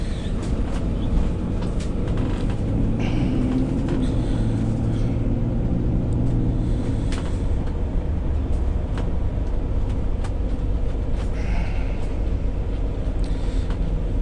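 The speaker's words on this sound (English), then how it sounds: "We're going to take it for a test drive a few miles down the road." A 2005 Monaco Cayman 36PDQ Class A diesel motorhome with a 300 horsepower Cummins engine drives down a road, giving a steady, loud low rumble of engine and road noise throughout with faint rattles and no talk.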